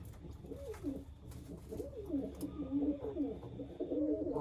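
A caught Trakya roller pigeon coos close by in repeated low, throaty rolling phrases, fairly loud over quiet room noise.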